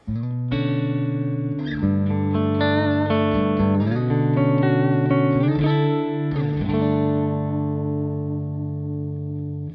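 A Gretsch Jet electric guitar on its neck pickup, played through a Badger 18 amp, plays warm, sustained chords and notes with a slight effect-laden shimmer and a lingering tail of reverb.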